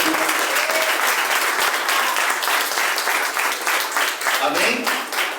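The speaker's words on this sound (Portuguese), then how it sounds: "Então, você pode aplaudir o nome do Senhor mais forte." A church congregation applauds during a worship service, producing dense, sustained clapping that stays loud throughout and dips briefly near the end.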